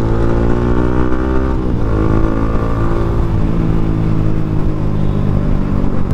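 A Honda Sniper 150 motorcycle with an aftermarket muffler revs hard and close, a loud, steady engine roar that climbs in pitch with no talking over it.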